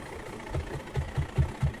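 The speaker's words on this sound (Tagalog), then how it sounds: "gumagana yung timer, umuugong yung motor, pero hindi siya umikot" A washing machine motor hums low and faint without spinning, giving off a soft, regular pulsing drone.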